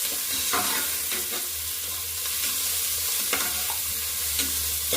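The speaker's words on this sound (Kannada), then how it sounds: "ಅದಾದಮೇಲೆ ಚೆನ್ನಾಗಿ ಇದು ಗೋಲ್ಡನ್ ಬ್ರೌನ್ ಆಗೋತನಕ ಫ್ರೈ ಮಾಡ್ಕೋಬೇಕು." Sliced onion frying in hot tempering oil, a continuous loud sizzle with occasional scraping stirs and small crackles, close and steady with no voice.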